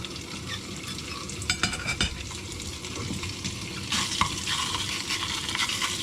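Bacon sizzling and frying in a camping pan over a portable burner, a steady continuous crackle with occasional scrapes and stirring clinks, growing louder and brighter toward the end.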